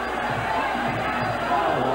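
A Muay Thai crowd cheers loudly and steadily throughout, a dense roar of many voices with no clear breaks, the ringside noise rising slightly toward the end.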